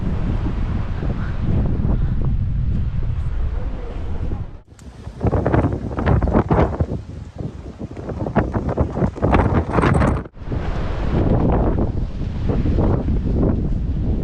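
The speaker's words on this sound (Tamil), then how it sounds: "காத்து அப்படிதான் அடிக்குது" Strong wind buffets the microphone on the Alexandria seafront by the Mediterranean, a loud continuous roar with short drops in level and faint rustling and surf beneath.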